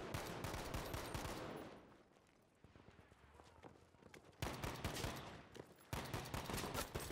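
Automatic gunfire shooting through a wall in Battlefield V: dense, loud bursts of rapid shots that ease into a quieter lull, then crash back in two sharp volleys, with faint voices underneath.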